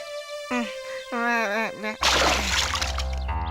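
Cartoon splashing through water, a loud burst of sloshing spray that starts abruptly and runs for over a second after brief speech-like cartoon vocalizing.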